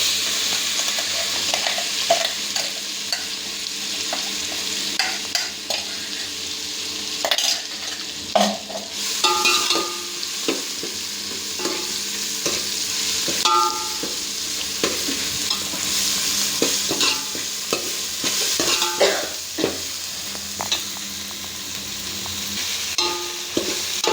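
Cumin and a ground spice mixture frying in hot oil, with steady sizzling and crackling while a spoon stirs and scrapes the pan in irregular strokes, close and continuous.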